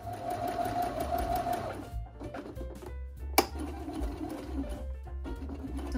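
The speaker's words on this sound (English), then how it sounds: "Now we are gonna go to the sewing machine, and we are gonna sew this entire piece." A sewing machine stitches all the way around a fabric piece for a baby's sensory toy, whirring steadily up close and pausing now and then, with a sharp click partway through.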